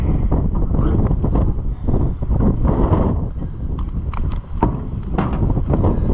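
Strong wind buffets the microphone in a heavy, constant low roar, with scattered clattering knocks on top.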